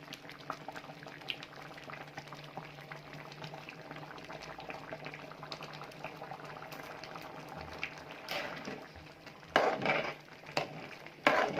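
Tadka dal simmers in a pot on the stove, with soft continuous bubbling and occasional louder pops and splutters near the end.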